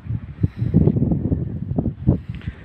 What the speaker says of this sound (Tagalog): Napakalakas nga po ng padpad ng hangin.